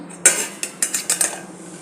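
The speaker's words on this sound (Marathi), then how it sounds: "आता याच्यावर झाकण ठेवते आणि अधूनमधून ही सारखी हलवत राहायचे" Bitter gourd stir-fry (karela bhaji) stirred in a pan, a spoon scraping and clinking against the metal in several short strokes, one sharp knock first, then a few lighter scrapes close by with no talk.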